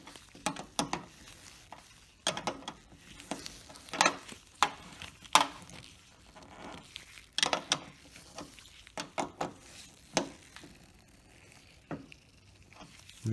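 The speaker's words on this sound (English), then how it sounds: "You just tighten that top screw" A screwdriver tightens the top screw on a Mercedes Hirschmann antenna mast, giving quiet, scattered metallic clicks and scraping taps in irregular bursts, close but soft, with no voices.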